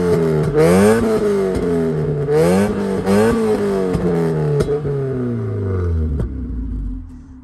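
A tuned car engine revs hard several times from just behind the vehicle, its loud, close exhaust note climbing and falling in repeated bursts before dropping back toward idle.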